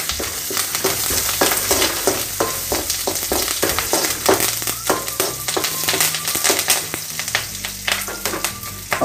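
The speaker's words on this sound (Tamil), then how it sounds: "நம்ம இன்னும் பச்சை மிளகாய் போடுவோம், அதுக்கப்புறம் கருவேப்பிலை போட்டுக்குவோம்." Green chillies and curry leaves spit and crackle loudly in hot oil in a pan while a fish curry is being made, a dense close sizzle full of sharp pops and stirring scrapes.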